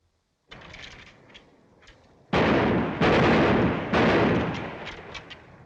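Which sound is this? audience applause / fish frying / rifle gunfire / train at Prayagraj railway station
rifle gunfire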